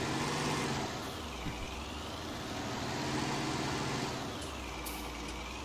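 A farm tractor with heavy wheels fitted on the back works a silage pile in a farming game, its engine giving a steady, continuous drone with gentle rises in pitch as it drives back and forth, with no talking.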